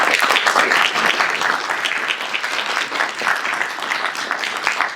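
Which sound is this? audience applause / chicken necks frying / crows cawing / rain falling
audience applause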